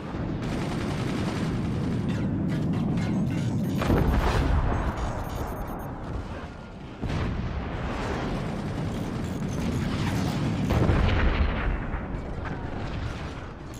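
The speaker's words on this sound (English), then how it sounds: "Shiny Money using these cannons like a boss." Cannons fire continuously in the strategy game Forts, heavy booming blasts and impacts layered into a dense, loud barrage with rumbling explosions throughout.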